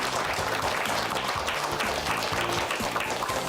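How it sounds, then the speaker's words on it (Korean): After a televised lecture, a studio audience gives a thick, continuous wash of applause, heard over a low rhythmic musical pulse, steady and fairly loud throughout. "다시 한번 큰 박수 보내주십시오"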